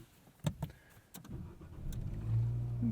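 A 2020 Nissan Sentra SR starts up: a couple of sharp clicks and thumps, then the engine catches and settles into a steady, close low hum that swells slightly near the end.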